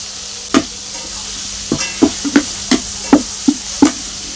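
Tomatoes and large-cut green chillies fry in a pan under a low sizzle, while a spatula strikes and scrapes the pan in a run of about nine sharp, close, rhythmic knocks.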